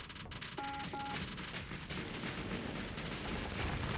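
Spaceship weapons fire in the space combat game Starsector, a dense, continuous rumble of rapid blasts and explosions that stays loud and sustained for several seconds without any talking.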